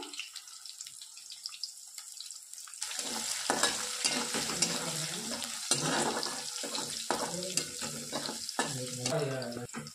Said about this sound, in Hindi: लहसुन अच्छे से ये फ्राई हो रहा है